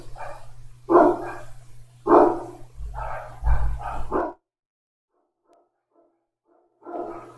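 Several dog barks in quick bursts, fairly close, with a low hum underneath, then a pause of near silence before one more bark.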